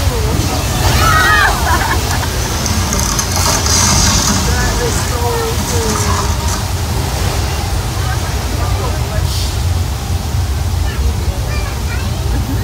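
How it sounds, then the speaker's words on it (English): A simulated flash flood on the Universal Studios studio tour in California, with a loud, constant rush of sloshing, cascading water filling the scene and faint voices underneath. "it's actually a flash flood."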